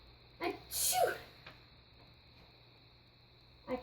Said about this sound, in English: What if you tried to sneeze more softer?